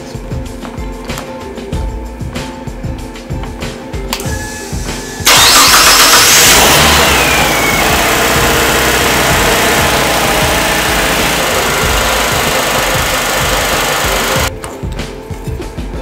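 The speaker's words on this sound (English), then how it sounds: "Every single box made, repaired, starts one of these engines." A car engine wired to an ECU test stand cranks and fires, then settles into a loud, steady idle that runs for about nine seconds before cutting off, with mechanical ticking and clatter before and after.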